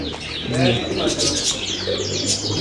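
Dubwale pigeons bred in Lahore coo and chirp in a loft in Sharjah, UAE, a close, continuous layered murmur of calls with a voice speaking over it.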